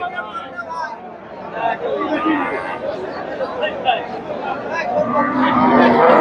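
A Friesian dairy cow at a busy rural cattle market, lowing amid loud crowd chatter and steady talk nearby.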